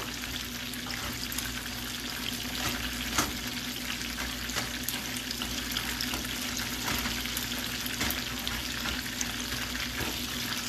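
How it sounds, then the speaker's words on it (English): Pak choy and other vegetables sizzle in a frying pan, a continuous close crackling hiss broken by occasional louder pops and stirring scrapes, with no voices. "So here, this now sizzling over here."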